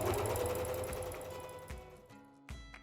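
Sewing machine running a zigzag stitch across a light-colored fabric scrap, a steady close mechanical whir with rapid needle ticks that slows and stops near the end.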